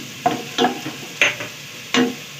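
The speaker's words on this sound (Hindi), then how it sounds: "प्याज को फ्राई करेंगे, ज़्यादा लाल नहीं करनी है, बस हल्की सी जो हो जाए ना ब्राउन" Onions fry to light golden in a pan with cumin for palak gosht, a soft sizzle under four distinct scraping strokes of a spoon stirring at a steady pace.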